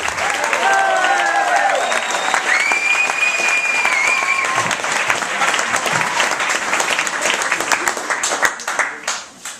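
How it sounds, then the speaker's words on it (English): Comedy club audience applauding and cheering for the opening act, loud sustained clapping with whoops and whistles over it, tapering slightly at the end. "Ladies and gentlemen, make some noise for the first act, please. Start clapping."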